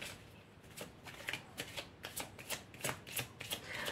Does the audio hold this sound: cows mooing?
no